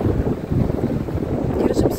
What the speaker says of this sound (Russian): Ветер, надеюсь, вам слышно